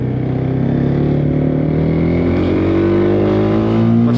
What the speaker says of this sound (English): We will do clutchless upshifts and downshifts.